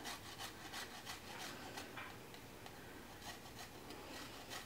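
Garlic is grated back and forth on a grater in a kitchen, a quiet, rhythmic scraping rasp in short repeated strokes, close and soft, with no talking.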